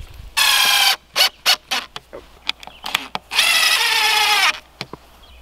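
A power drill drives pocket hole screws near PVC pipe in several bursts, two long runs and many short trigger pulls, loud and close with quiet gaps between.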